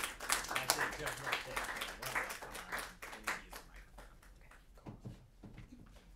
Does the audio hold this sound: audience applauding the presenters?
yes